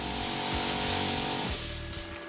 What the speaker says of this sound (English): you can use it as an air blower as well